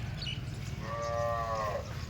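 A single Gir cow lets out one drawn-out moo lasting about a second at the Dhule cattle market, set against a steady low murmur of background noise.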